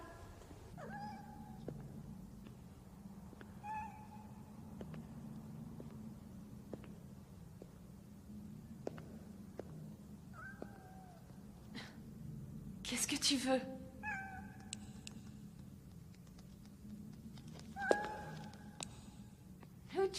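A cat meows repeatedly in short, separate calls, some close and clear, others fainter, while someone speaks quietly in French over a low steady background hum.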